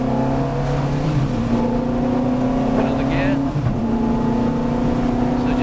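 Engine of a Ferrari F430 race car heard from inside the cabin, a loud steady drone with pitch rising and dipping as it accelerates, while a voice gives driving instructions over it.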